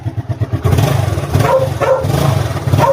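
A three-year-old Yamaha Mio Soulty scooter engine runs close up and is revved in a few surges, its note rising and falling over a steady low rumble.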